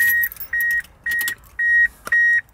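Ignition switched on in a 1994–98 Mitsubishi Delica L400 diesel with a 4M40 engine: five steady electronic warning beeps repeat about every half second, loud and close, with faint key jingling between them.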